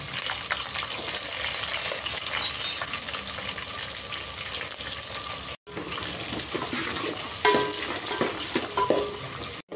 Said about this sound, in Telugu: వచ్చే వరకు లైట్ బ్రౌన్ వచ్చే వరకు కలిపేసుకుందాం